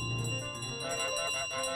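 A bell rings in Untitled Goose Game, its sustained metallic tones ringing out clearly and fading over a couple of seconds.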